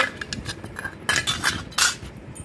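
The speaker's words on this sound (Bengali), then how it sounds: "প্রথমেই আছে আমার এখানে অনেকগুলো বাসন কুসুন আছে" Metal cookware and utensils clank and clink in a home kitchen, several sharp bright knocks and rattles spread irregularly over a couple of seconds, close and fairly loud with no talk.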